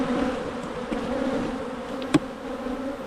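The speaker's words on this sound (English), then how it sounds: "Bunch of bees on the floor, nurse bees." Honey bees buzz steadily in an opened double-deep hive during early spring colony work, a close, continuous drone with a brief knock or tap near the end.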